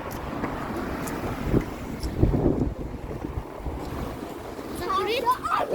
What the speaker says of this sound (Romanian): M-am zis eu că bate vântul puternic afară.